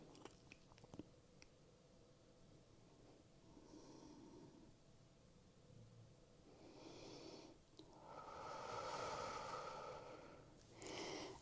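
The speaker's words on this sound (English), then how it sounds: "take a couple of final sweet loving breaths here" Slow, deep breaths drawn during a pregnancy yoga cool-down, soft and close, with a couple of fuller exhalations swelling toward the end in an otherwise quiet room.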